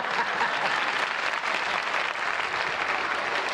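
Sustained applause from a studio audience at a late-night talk show taping, a dense even wash of clapping hands holding steady throughout with no voices over it.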